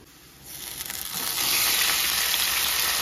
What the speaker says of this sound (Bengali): এবারে তেলের মধ্যে দিয়ে দিচ্ছি লতি।